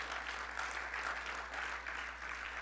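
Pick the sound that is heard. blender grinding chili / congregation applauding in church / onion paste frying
congregation applauding in church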